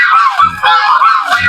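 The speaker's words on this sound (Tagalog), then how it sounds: "Ito po yung mga gansa natin mga idol." A flock of domestic geese on a backyard farm honking loudly and close, overlapping nasal calls filling the moment, with a voice speaking over them.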